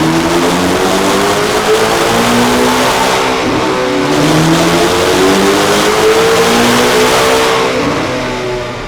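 A Corvette C8 ZR1 with a JB4 tune, aftermarket exhaust and cone intake, running Sunoco race gas, roars loud and steady on a chassis dyno as the engine pitch climbs and dips through sustained revving pulls.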